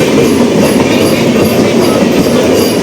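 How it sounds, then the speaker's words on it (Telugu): The Tatanagar-Ernakulam Express passes near Bhimavaram as a loud, dense, continuous roar of wheels on rails with a rapid rattling clatter throughout. "టాటా నగర్ ఎర్నాకుళం ఎక్స్ప్రెస్"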